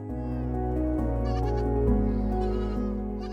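Goats bleating in argan trees, a loud sustained wavering bleat with overlapping calls, near and prominent throughout with no talk.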